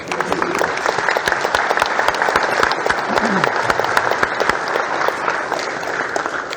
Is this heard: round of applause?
yes